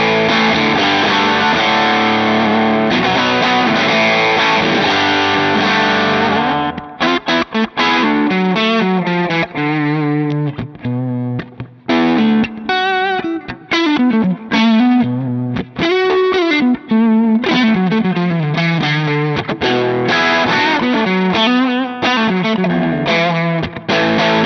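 Electric guitar through a Marshall JTM 45/100 amplifier with Alnico speakers: a loud, overdriven sustained chord, then a fast, distorted lead run of bends and riffs, played alone.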